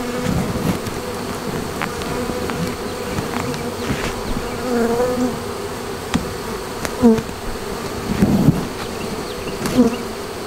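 Bees fly around and into the entrance of a deep hive, a steady close insect buzz with occasional louder passes near the microphone and faint background thumps.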